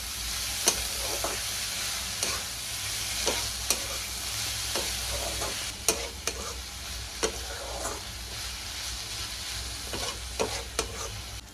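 Spring onion greens are stirred into eggplant bharit in a pan, a low sizzle under regular scraping strokes of the spatula, each stir a clear click against the pan, with no voices.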